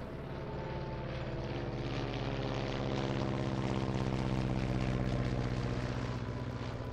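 A U-2 spy plane takes off in 1960, its engine a steady, droning roar with a rough low pulsing that holds evenly throughout.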